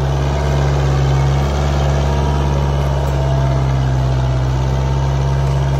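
Steady, loud, close drone of a Kubota 4x4 tractor's diesel engine as it drags a harrow, a constant low rumble that holds evenly throughout with no one speaking.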